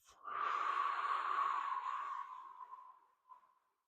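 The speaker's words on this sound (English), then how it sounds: "Exhale through the mouth." One long, steady breath pushed out through the mouth during a guided deep-breathing exercise, a soft airy rush lasting about three seconds that fades into quiet.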